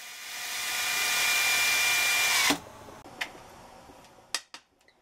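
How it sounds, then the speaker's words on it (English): A power drill bit bores into the Berdan primer of a cartridge case, a loud rising whine lasting a couple of seconds before cutting off, followed by a few sharp metallic clicks and taps. "try to drill more to the side than into the middle where the anvil is located"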